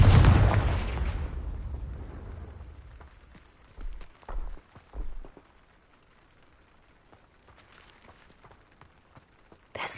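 A Confringo blasting spell explodes in Hogwarts Legacy with a loud, booming burst that rumbles away over a few seconds, followed by a couple of smaller thuds and a sharp crack at the very end.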